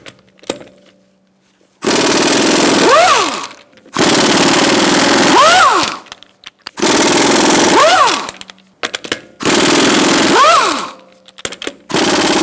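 An impact wrench spins a 19mm socket on the front wheel nuts of a Ford Focus, loud bursts of rattling hammering with rising whine, four main bursts separated by short pauses.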